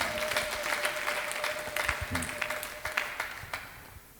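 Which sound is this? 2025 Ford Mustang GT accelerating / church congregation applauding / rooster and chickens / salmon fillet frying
church congregation applauding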